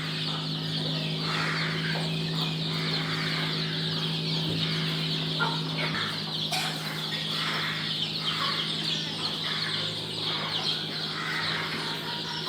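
Buff Cochin chickens cluck and murmur on a rooftop terrace, a steady close chorus of soft repeated clucks over a low background hum.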